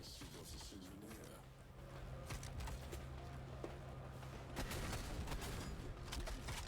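Shotgun blasts in the shooter video game Sprawl, fired against an enemy: a few punchy reports inside a dense, busy mix of game action and background sound.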